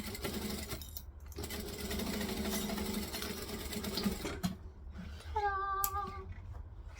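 A sewing machine stitching and back-stitching a bag runs in a steady, close mechanical whir. It stops briefly, restarts, then cuts off near the end, leaving a short high-pitched squeak.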